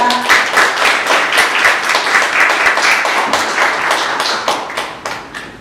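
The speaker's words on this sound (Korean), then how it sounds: "큰 환영의 박수 부탁드립니다." An indoor audience at a sustainable development forum's opening ceremony claps to welcome a city mayor to the stage, producing steady, loud, close applause that thins out toward the end.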